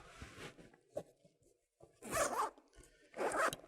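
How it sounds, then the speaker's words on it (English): A zipper on a ThinkTank Photo Urban Access 15 camera bag pulled open in several quick rasping strokes, close by, with short pauses and light handling noises between them. "very convenient, wide open, got the zippers on both sides"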